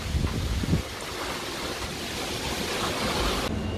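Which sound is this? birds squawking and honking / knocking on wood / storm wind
storm wind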